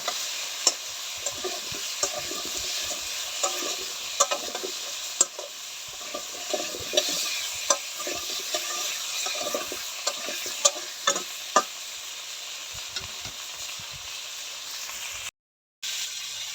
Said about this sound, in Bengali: ভালো করে সবজিগুলো ভাইজা নেব আর একটু ভাইজা নেব